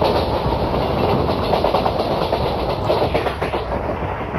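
Long freight train hauled by a WAG 7 electric locomotive in a train simulator game on a Kerala valley route, rumbling steadily with continuous clickety-clack of wagons on rails, loud and close throughout with no talk.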